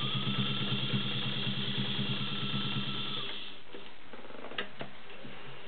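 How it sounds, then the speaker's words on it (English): A vintage White model 265 sewing machine with a size 16 needle stitches through 14 layers of cotton, a steady rapid mechanical ticking that runs loud for about three and a half seconds, then stops, leaving faint clicks. "Nice stitches on 14 layers of cotton."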